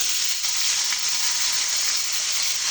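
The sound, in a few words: vegetables frying with onions in a pan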